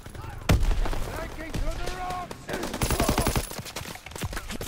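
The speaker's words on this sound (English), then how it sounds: "I shot the whole clip at the person." Rapid bursts of gunfire from a World War II era shooter game on the Gibraltar map, sharp repeated shots layered with other game noise and occasional talk.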